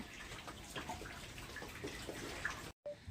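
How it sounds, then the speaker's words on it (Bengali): Rice and lentils being washed in water for a khichuri, giving close, continuous splashing and sloshing with small drips, pausing briefly near the end. "চাল কলাইটা ধুয়ে নিয়ে আসছি"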